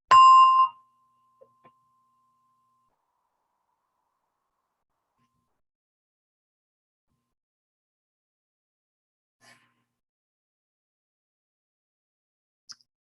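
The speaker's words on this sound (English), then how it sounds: "as you hear the gong" A single meditation gong struck once, loud and ringing at the start, its tone decaying over a couple of seconds into near silence with a few faint small sounds later.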